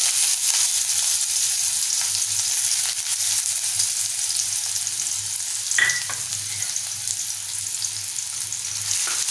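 Finely chopped onion hits hot oil and fries with a loud, steady hiss that continues unbroken, close up, with one brief clatter midway and no talking.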